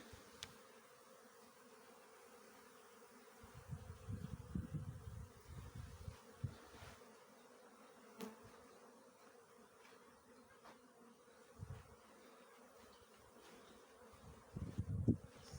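Honeybees from hive colonies gathering water outdoors, a faint steady buzzing with louder bursts of wings passing close by, otherwise quiet with no talk.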